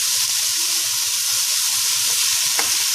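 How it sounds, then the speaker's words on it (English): Vegetables sautéing in a pot for ham and potato soup, a loud, steady, close sizzle with a faint utensil tap near the end. "here we have the vegetables being sauteed for a little bit"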